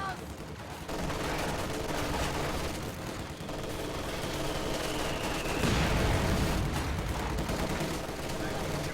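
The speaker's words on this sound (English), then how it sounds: "So we'll be relying entirely on lucky mortar hits and his machine guns." Gunfire and mortar impacts from a strategy video game battle with machine guns and conscripts: a steady wash of scattered shots and distant booms, moderately faint, with a voice talking over it at times.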